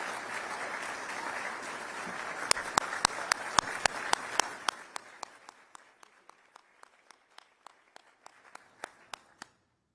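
Audience applause at an event at an electric company in Jacksonville, a dense burst of clapping that builds, then thins to scattered individual claps before fading out.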